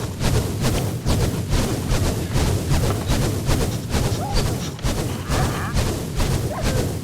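Explosions in a Minecraft game, a dense run of booming blasts and crashing thuds repeating nearly nonstop, loud and close.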